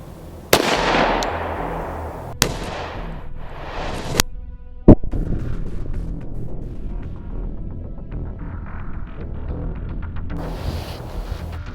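Sharp impulsive reports from an H&K USP 45 pistol firing .45 ACP Glaser Safety Slug rounds into gel and drywall, with several loud cracks in the first few seconds followed by lingering noise.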